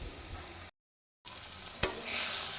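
Ginger-garlic paste drops into a pan of ground spices such as coriander and turmeric frying in oil. After a brief silence a sharp burst flares into a bright, steady sizzle close up.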